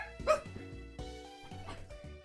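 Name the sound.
dog barking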